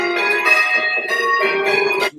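Church bells in a small change ringing tower, bright sustained tones ringing in a steady sequence, loud and close, then cutting off abruptly at the end.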